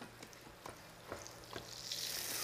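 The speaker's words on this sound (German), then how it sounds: "Und dann darf die Forelle gleich in meine Pfanne rein." Flour-dusted trout sizzling in a frying pan, a constant crackling hiss with small pops and scraping stirs that builds louder toward the end, close and with no talking.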